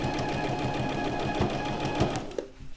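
A sewing machine runs steadily while stitching a pleated circle skirt waistband, a continuous rapid chatter that slows and stops near the end.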